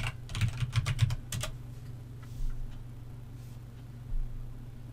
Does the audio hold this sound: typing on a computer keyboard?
yes